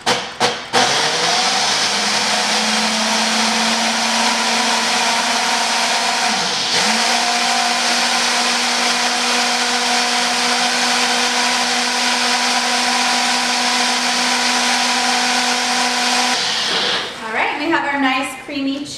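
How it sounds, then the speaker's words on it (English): A blender whirs steadily at close range for about sixteen seconds while blending a creamy cheese sauce, then cuts off. A short rattle follows near the end. "We're going to blend that up."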